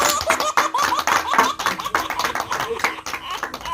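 An audience at a Chhattisgarhi comedy performance claps in bursts mixed with laughter and voices, a busy, uneven patter of hands that rises and falls.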